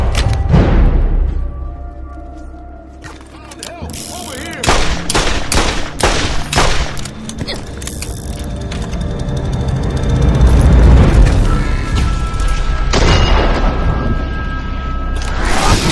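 Gunfire from weapons in the video game Borderlands: loud bursts of rapid shots and booming blasts, dense in places and spaced in others, with brief quieter gaps between volleys.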